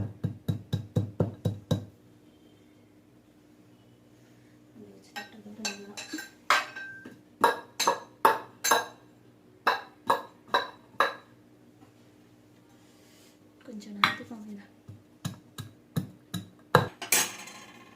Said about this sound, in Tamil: பூண்டு உரிச்சு வச்சிருக்கதை தட்டிக்கலாம் நல்லா